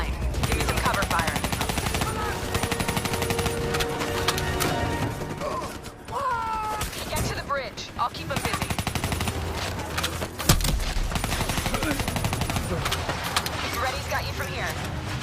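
Rapid automatic gunfire and bursts of shots in Call of Duty Black Ops 3 combat, dense and loud throughout, with voices talking over the firefight and vehicle and mechanical noise mixed in.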